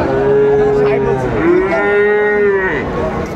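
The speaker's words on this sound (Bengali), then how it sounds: "শাহিওয়ালের ষাঁড় বাচ্চা" A young Sahiwal bull calf, about seven or eight months old, lets out one loud, drawn-out moo up close at a livestock market, its pitch dipping and rising midway.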